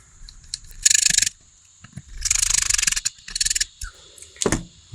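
Hex head screws are driven into a toy blaster with a silver metal internal, giving short bursts of ratcheting, rasping screwdriver turns separated by pauses, close and fairly quiet.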